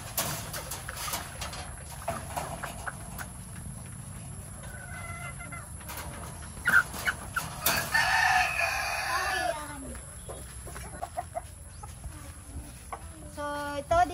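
A rooster crows and hens cluck in a battery-type cage breeding area, with one loud crow in the middle standing out over steady clucking and background farm noise.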